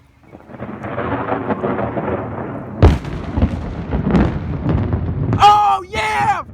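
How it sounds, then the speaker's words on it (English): Loud, close thunder follows a huge lightning strike in a strong thunderstorm, with a sharp crack and then rolling, rumbling booms over several seconds, while excited voices shout and whoop near the end. "That was the biggest freaking lightning strike I've ever seen in my life."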